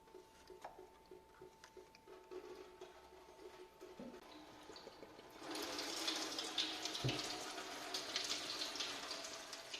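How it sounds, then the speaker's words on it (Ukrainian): Coolant from a VW LT 35 with a 2.5 TDI engine starts pouring into a container partway through, a steady close splashing stream that follows quieter clinks of work on the engine. "Одразу треба підставити якусь ємність, бо рідина побіжить."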